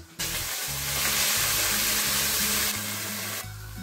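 Onions frying in hot oil for a pâté chaud give a loud, continuous crackling sizzle that fills the whole stretch, with no talking.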